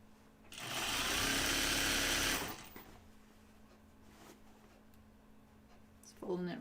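A sewing machine runs in one steady burst for about two seconds, stitching fabric closed along the bottom edge, then stops, leaving faint handling sounds.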